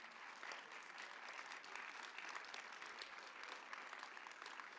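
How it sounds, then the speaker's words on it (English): Steady applause from an audience for the organizing team at a conference closing ceremony, a dense, even patter of many hands sustained throughout at a moderate distance. "make a big applause for the great organizing team"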